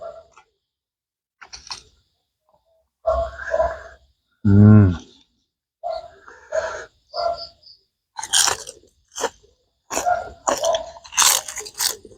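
Crunchy fried grasshoppers cooked with egg being chewed up close, sharp crisp bites and crunches in bursts separated by short pauses, loud and dry with no talk.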